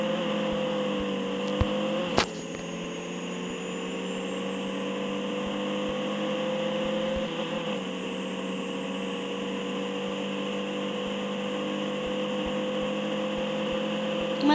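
A Volga car drives along a highway track in the video game Voyage 4, with a steady engine drone that rises gradually in pitch, one sharp click near the start and no speech.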